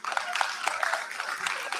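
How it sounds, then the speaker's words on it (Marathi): An audience at a Marathi poetry event in Karjat claps in a dense, steady ripple of applause for a young girl poet, moderately loud and continuous throughout. "जोरदार टाळ्या अवंतीसाठी"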